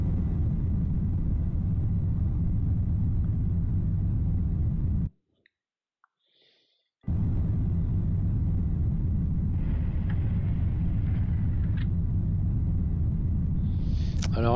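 Apollo 17 engine braking burn for lunar orbit insertion: a steady, loud low rumble runs throughout, with a two-second drop to near silence in the middle before the roar resumes, and faint clicks scattered over it.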